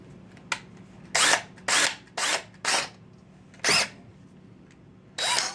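A Porter-Cable drill fitted with a whisk whips cream in a chilled bowl, giving six short close bursts of high-pitched whirring separated by brief pauses.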